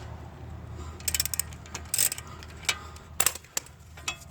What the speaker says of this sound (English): I've got my extended handle ratchet and my 18 millimeter